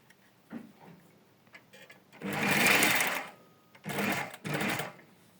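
Domestic sewing machine stitching fabric with the needle shifted to the left, running in one long burst and then two shorter bursts of loud mechanical whirring, with quiet pauses between.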